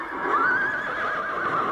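A horse neighs in one sustained, wavering whinny lasting over a second, clear and fairly close, with faint hoof clip-clop and no talk.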